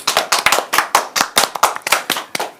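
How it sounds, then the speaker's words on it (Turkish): A group of children claps at a children's Ramadan show, a short burst of quick, uneven hand claps close to the microphone with no voices over it. "Bir alkış alalım."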